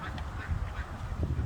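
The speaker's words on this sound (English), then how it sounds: "Y'all see all the ducks swimming? And the geese and the gooses and all that." Ducks and geese quacking and honking in an outdoor park on a hot day, a low, continuous clamor of calls over steady background noise, fairly close.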